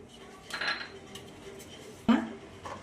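Powdered sugar being moved out of a grinder jar, heard as a few faint metallic clinks and scrapes of a jar and spoon, close and quiet, with no talking.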